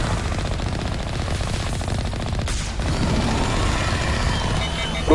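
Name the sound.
cannon gunfire in the video game Mass Effect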